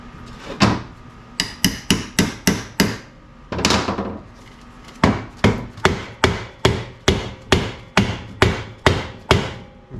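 A hammer drives a chisel to free a VW front beam, ringing out as loud, close metallic strikes in quick bursts of blows with brief pauses between, and no voices.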